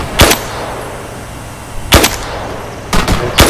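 Gunfire in a military video game battle: three sharp, loud shots spaced a second or more apart, each with a brief echoing tail, set against a low ambient rumble.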